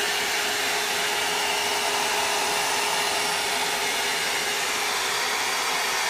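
A Lidl Paris Hilton hot air brush runs steadily while drying hair, giving a loud, continuous close-up blowing whir with no breaks and no talking over it.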